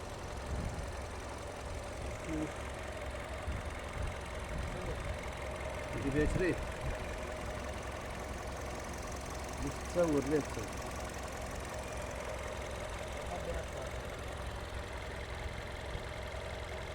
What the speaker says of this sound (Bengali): দেখেন ইঞ্জিনে কোনো শব্দ আছে দেখেন এই যে দেখেন ফোর সিলিন্ডার